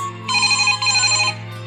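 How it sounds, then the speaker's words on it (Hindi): A landline telephone rings indoors: two short electronic trilling bursts back to back, clear and fairly close, over a low steady hum. "लैंडलाइन फ़ोन की घंटी बज रही थी।"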